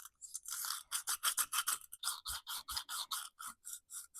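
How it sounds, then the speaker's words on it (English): Sandpaper scrubs a Dolmar PS-460 chainsaw piston soaked in carburetor cleaner in quick rhythmic back-and-forth strokes, close and fairly quiet, with a few soft knocks between the rasps. "A little bit of sandpaper."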